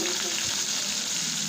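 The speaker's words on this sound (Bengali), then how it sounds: "এবার ওই তেলেই দিয়ে দেব পেঁয়াজ কুচি।" Finely chopped onion sizzles in hot oil left from frying eggs, a steady close crackling hiss with faint stirring scrapes.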